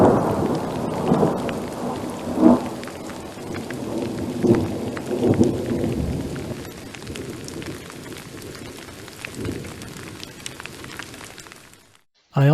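Thunderstorm with heavy rain over a cabin, steady downpour throughout with several low rumbling thunder rolls swelling in the first half before easing toward the end.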